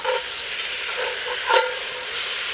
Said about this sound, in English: we're going to give the meat one more quick stir